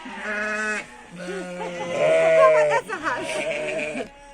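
Sheep bleat repeatedly at close range in a village farmyard, long wavering cries overlapping one another, loud and clear with several voices calling in turn.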